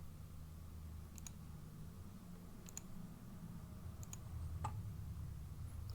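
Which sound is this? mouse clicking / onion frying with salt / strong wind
mouse clicking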